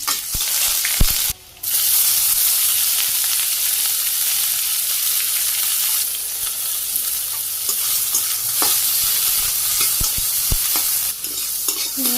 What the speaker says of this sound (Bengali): তেল দিয়ে দিলাম, একটু জিরে দিয়ে দিলাম, ভাজি করে নিই।